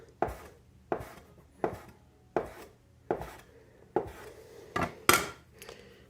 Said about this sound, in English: So we are going to cut this little log into pieces here, and then cut these pieces.